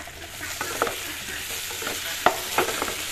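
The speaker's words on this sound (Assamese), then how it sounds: "ভাজি দিলোঁ কম জুইত ভাজিছোঁ" Egg curry ingredients frying on low heat in a pan, a steady soft sizzle with intermittent sharp stirring clicks and scrapes.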